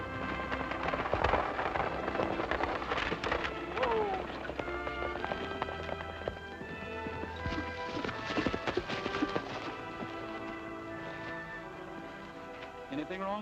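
Stagecoach horses' hooves clip-clopping as the coach pulls up, with rattling wheels and jangling, a busy rumbling scene with voices and music mixed in.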